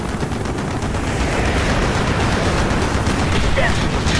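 Gunfire in the Call of Duty: Black Ops video game, a dense, continuous roar of shooting and blasts that runs unbroken throughout, loud and mixed with other battle noise.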